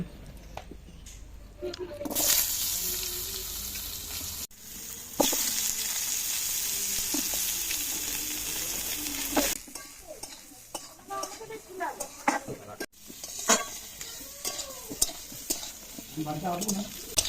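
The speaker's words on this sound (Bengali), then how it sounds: "একই তেলে বেগুন কাটাও ভেজে নেব" Eggplant pieces fry in oil already used for potatoes and rohu fish, giving bursts of crackling sizzle with stirring scrapes and utensil clinks, interrupted by brief quieter gaps.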